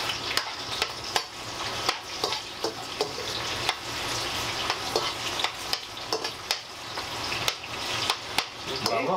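Garlic and onion sizzle steadily in a hot pan while cooking pork humba, with frequent clinks and scrapes of a utensil stirring the pan.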